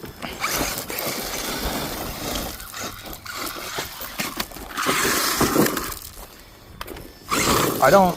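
An Axial Ryft RC rock bouncer drives over rough ground with a whirring electric motor, gear noise and scrabbling tires. The bursts come and go, louder near the end, and people talk over parts of it.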